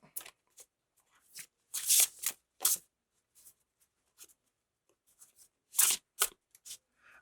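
Tarot cards are shuffled by hand in quiet, irregular bursts of papery riffling and slapping, close up with brief pauses between the runs.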